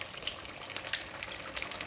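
Fish sizzles steadily in oil under a covered pan, a dense continuous crackle with small pops, moderately loud and with no voices.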